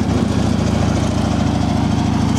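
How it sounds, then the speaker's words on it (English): A 2012 Harley-Davidson Road King Classic FLHRC with factory exhaust idles up close, a steady, fairly subdued lopey rumble with no one talking. "Fire it off and give it a listen right quick."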